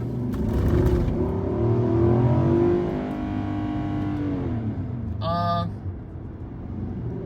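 Honda CR-Z pulls away from a first-gear creep, engine note rising and rumbling loudly for a few seconds before easing off, with a brief whistling tonal burst near the end.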